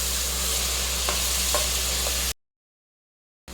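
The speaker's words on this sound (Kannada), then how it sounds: "ಇವಾಗ ಇದಕ್ಕೆ ಸಣ್ಣದಾಗಿ ಕಟ್ ಮಾಡಿ ಇಟ್ಕೊಂಡಿರುವಂತಹ ಟೊಮೊಟೊ, ಸ್ವಲ್ಪ ಪುದೀನ ಸೊಪ್ಪು ಹಾಕ್ಬಿಟ್ಟು ಫ್ರೈ ಮಾಡಿ" Chopped tomato and mint leaves frying with mushrooms for a mushroom biryani, a steady close sizzle with a few soft stirring clicks, cutting to silence before a brief return.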